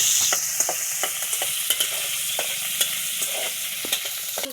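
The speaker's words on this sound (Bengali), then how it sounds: "দেখুন আমি শুটকিগুলো বেজে নেব।" Dried fish (shutki) frying in a pan, with a soft steady sizzle broken by regular clicks of a utensil stirring, close and fairly quiet, no voices.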